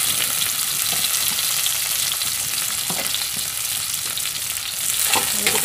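Onions and tomato slices frying in a pan for a fish dish in yellow spiced broth: a loud, continuous sizzle with occasional soft scrapes of stirring, close up and without talk.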